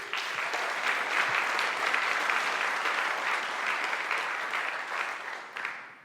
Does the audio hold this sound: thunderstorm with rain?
no